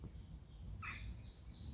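A single crow caws once in quiet woodland, faint and distant, with low background hush before and after.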